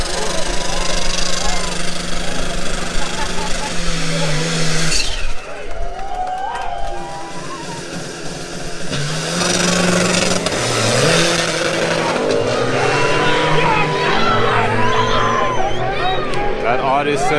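Drag race between an Audi RS7 and a diesel Mark 1 over the quarter mile at an MSA event: loud engine roar rises and falls, with a dip mid-clip before the engines surge again, all beneath steady talking and crowd noise.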